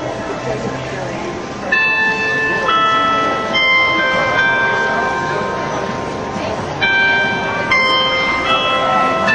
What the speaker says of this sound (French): Carillon